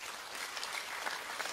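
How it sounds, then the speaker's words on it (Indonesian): Loud, dense applause from a church congregation during a sermon by Pastor Ridwan Hutabarat, a steady wash of many clapping hands filling the room with no pauses or voices. "Tepuk tangan yang keras."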